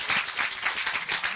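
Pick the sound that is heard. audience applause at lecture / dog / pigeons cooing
audience applause at lecture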